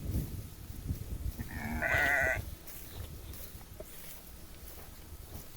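A sheep and her lamb on a pasture bleat with one clear, loud bleat up close, under steady outdoor ambience with low rumbling.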